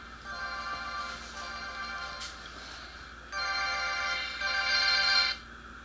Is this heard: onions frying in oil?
no